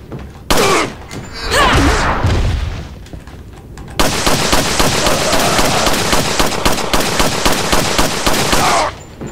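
Video game gunfire in Resident Evil 4's Separate Ways mod, with loud bursts of shots, then a dense rapid volley of repeated rounds firing in quick rhythm for several seconds, close and forceful.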